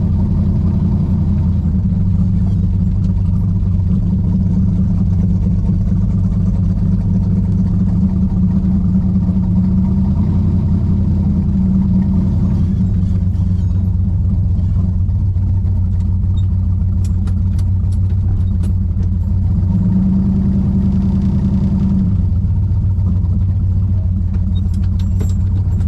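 1968 Plymouth Roadrunner V8 idling steadily up close, a loud deep rumble with brief rises in revs around the middle and near the end.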